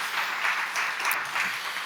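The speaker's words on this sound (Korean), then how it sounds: "우리 하나님께 영광의 박수 칩시다" A church congregation gives sustained applause during a Friday evening mission service, a continuous, loud wash of many hands clapping, with no voices over it.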